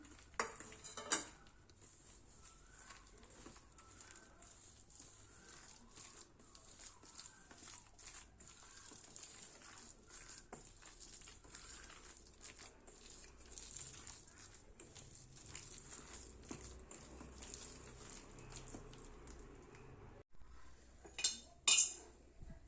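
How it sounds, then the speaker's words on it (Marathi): Moong dal vada batter being mixed in a bowl, with a continuous soft scraping of a utensil against the dish, light clinks and a few louder knocks, fairly faint and close. "सो हे व्यवस्थित आपल्याला मिक्स करून घ्यायचं आहे"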